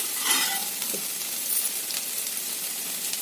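Okra (bhindi) fries in a pan with a steady, close sizzle, broken by a few soft stirring scrapes, and no voices.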